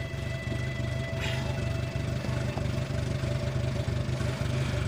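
A car engine idles quietly and evenly at a low, steady pulse, with no other sounds rising above it.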